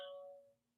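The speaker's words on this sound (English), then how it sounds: "somebody ringing my doorbell." A single doorbell chime rings once, faint and distant, and its tone fades quickly into quiet.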